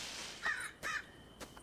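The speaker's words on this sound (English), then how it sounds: "There's a bird." Bird calls in the video game Moonlight Peaks: three harsh, crow-like caws in quick succession, the last one shorter and fainter, over a soft background hum with no speech.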